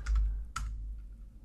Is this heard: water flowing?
no